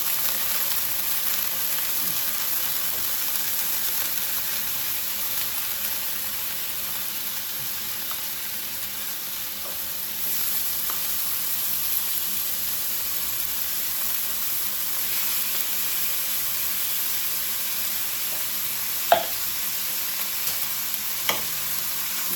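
Garlic fries in a pan with very little oil, a steady soft sizzle running without a break, with a few faint clinks and stirring scrapes near the end and no voices.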